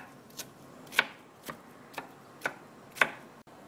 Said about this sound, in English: Chop up the inner seed part of the zucchini and keep it aside for the sauce.